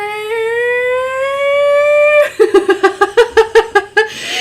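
A voice imitates a test siren: a long rising wail held steadily, then breaking into a quick series of about ten rhythmic pulsing whoops.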